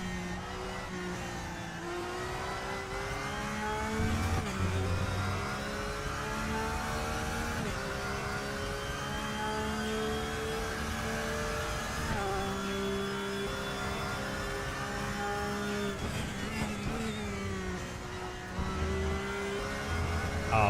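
A Porsche race car in a racing video game revs continuously at high pitch, shifting up and down through gears with brief dips, loud and sustained without talk.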